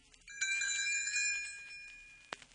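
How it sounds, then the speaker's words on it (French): Tinker Bell's little bells ring in a short, bright chime that sustains for about a second and then fades, with a small knock at the end, heard alone and quiet. "Elle fera tinter ses petites cloches comme ceci."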